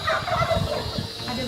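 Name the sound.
ornamental chicken clucking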